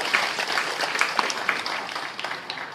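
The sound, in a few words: applause for the regent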